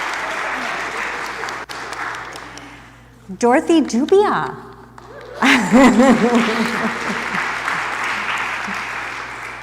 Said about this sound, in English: So actually, you can clap for her.